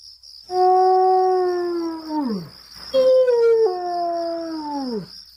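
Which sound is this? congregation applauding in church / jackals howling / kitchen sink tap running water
jackals howling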